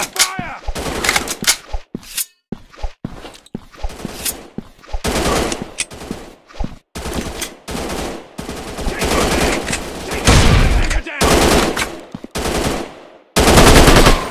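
Rapid bursts of automatic gunfire from the mobile first-person shooter Commando Gun Strike Ops 3D, loud and close, broken by short pauses and reloads, with brief radio-style voice callouts mixed in.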